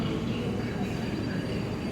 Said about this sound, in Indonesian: Ada kereta eksekutif yang cukup langka nih.